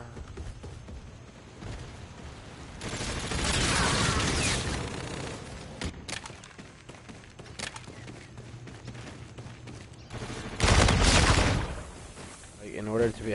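Gunfire from Call of Duty: Infinite Warfare multiplayer, with bursts of shots under steady game noise, a denser loud volley in the middle and another sharp burst near the end, while a player talks.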